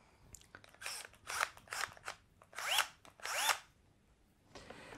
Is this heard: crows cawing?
no